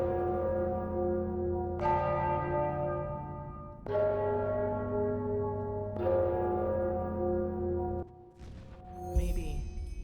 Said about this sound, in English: I'm sure the bells have something to do with the riddle.